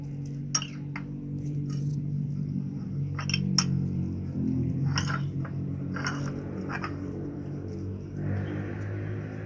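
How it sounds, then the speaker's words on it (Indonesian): Mie goreng noodles being stirred in a pan, with repeated metallic clinks and taps of a utensil against the pan over a steady low hum, irregular and close. "terus kituna kocek-kocek, aduk-aduk, aduk rata supaya nikmat"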